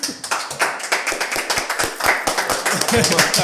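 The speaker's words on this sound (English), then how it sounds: "That was a clap as well." Sharp hand claps, several rapid bright smacks in an uneven rhythm, ring out close by while people talk over them in an indoor setting.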